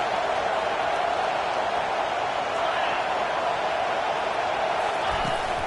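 A college football stadium crowd roars to help its defense, a dense, unbroken wall of cheering noise that stays loud and steady from start to finish.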